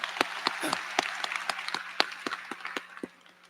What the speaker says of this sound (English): Graduates, let's give all of our family, friends, and supporters a round of applause.